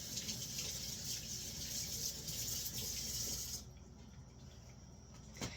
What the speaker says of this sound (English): A little soap and water goes a long way